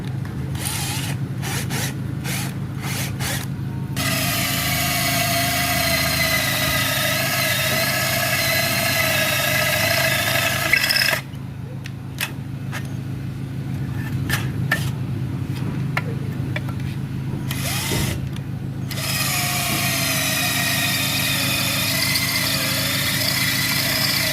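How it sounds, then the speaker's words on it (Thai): A cordless drill whirs in long bursts, pausing and starting again, drilling into steel against a steady background engine hum. "เดี๋ยวผมจะเจาะเหล็กให้ดูนะพี่นะ"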